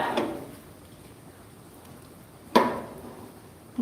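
Heavy rain falls around a house, a continuous soft wash of drops broken by a couple of sharper knocks or thuds.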